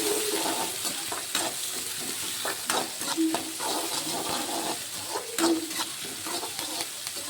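Curry leaves fry in hot oil for Kumbakonam kadappa, a moderate steady sizzle broken by intermittent stirring clinks and scrapes, close by and with no voices.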